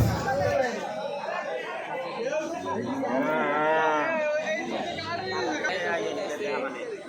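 Cattle at a crowded Kurbani cattle market in Piarpur, Madaripur, let out drawn-out moos amid constant nearby chatter and talking.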